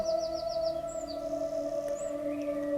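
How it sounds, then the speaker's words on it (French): Birdsong in a green forest: a quick run of repeated high chirps early on, then scattered calls, all set over steady, soft sustained musical tones. "Tu entends les chants des oiseaux."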